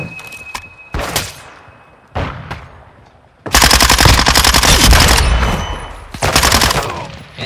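Call of Duty MW2 gunfire: a few sharp single shots early on, then a long, loud, rapid automatic burst followed by another short burst, close and dominating with no talk.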